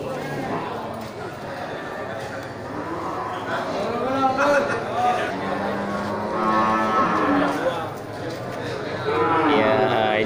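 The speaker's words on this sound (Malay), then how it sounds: "Di sampingnya juga ini beberapa ekor sapi Aceh jantan." Male Aceh cattle at a busy cattle market, giving several low moos that rise above the constant chatter of a crowd.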